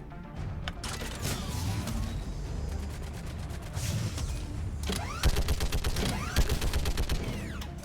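Rapid gunfire bursts from Mass Effect 3 Legendary Edition, crackling in quick strings of shots with brief pauses between volleys over a low rumbling game background.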